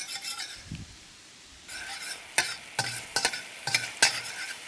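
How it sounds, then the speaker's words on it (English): Garlic stir-fries in a little oil over low heat for Chinese broccoli, a soft sizzle beneath repeated crisp scraping strokes of a spatula, near and fairly quiet after a brief pause. "Then I'm going to stir fry the garlic first."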